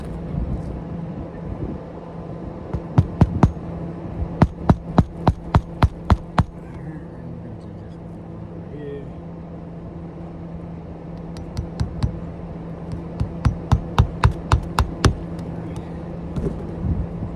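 A hammer drives nails into roof shingles above the tar strip in quick bursts of sharp, ringing blows. Two clusters of rapid strikes, each set apart by a pause, sound close over a low steady background hum.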